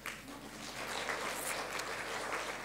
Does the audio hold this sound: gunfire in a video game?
no